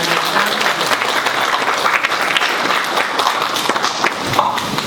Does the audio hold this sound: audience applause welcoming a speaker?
yes